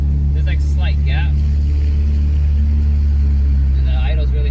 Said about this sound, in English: Dude, that exhaust leak is horrible.